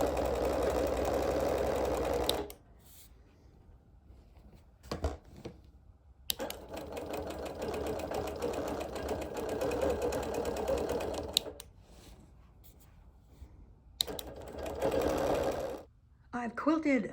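Sewing machine quilting the backgrounds of cotton appliqué blocks, running in long steady stretches, stopping briefly and starting again, close and fairly loud, with a person talking during the pauses.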